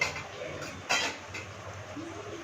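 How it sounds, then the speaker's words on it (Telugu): Cumin and fenugreek seeds, with coriander seeds, are added to a pan and fried. A brief metallic clatter sounds as the seeds go in, then there is a low steady sizzle and faint clinks of the pan. "కొంచెం జీలకర్ర కొంచెం మెంతులు ఇలా మూడింటిని వేసుకోండి చూడండి ఈ విధంగా కొంచెంసేపు అలా ఫ్రై అవనివ్వండి"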